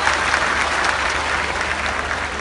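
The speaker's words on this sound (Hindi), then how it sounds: "जोरदार तालियां" Loud, sustained applause from a large audience at an outdoor public event in Maharajganj, Uttar Pradesh, a dense, even clatter of many hands clapping close by without a break.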